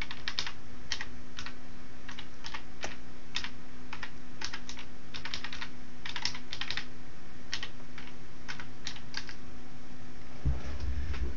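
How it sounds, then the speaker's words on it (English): Someone types a web address on a computer keyboard. Close, crisp key clicks come in quick bursts with short pauses over a faint steady hum, without any talking. "Going to come up here to the address bar and type in"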